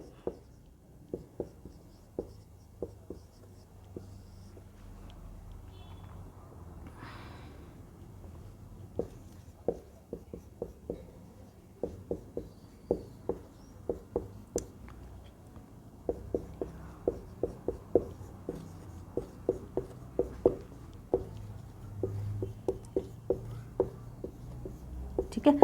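Chalk or marker writing notes on a classroom board during a history lesson, a long run of soft taps and strokes that grows denser and louder, with faint room noise and occasional quiet speech.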